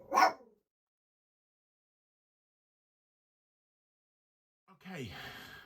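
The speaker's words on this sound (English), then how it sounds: "And a nice bark from little Gizmo, who has just seen a man walk past our window." A small dog gives one short, sharp bark indoors at a man passing the window, followed by a long silence. A person then starts speaking nearby.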